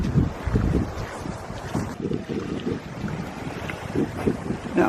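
Cold wind blows off a lake, buffeting the microphone in loud, rough gusts that rumble continuously throughout.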